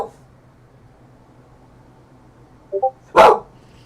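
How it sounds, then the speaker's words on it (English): A dog barks in an apartment, two short yips close together and then one louder, sharper bark near the end, after a quiet stretch with a faint low hum. "Not everybody needs to be barked at."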